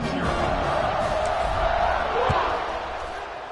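A home crowd at a college football game fills a stadium with a steady wash of cheering and roaring, distant and sustained, gradually easing toward the end.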